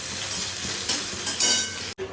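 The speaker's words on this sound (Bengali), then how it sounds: "চলো পেঁয়াজটা ভেজে নিই" Chopped onion sizzling and crackling in hot oil in a frying pan, a steady close hiss with occasional stirring clinks, cutting off briefly near the end.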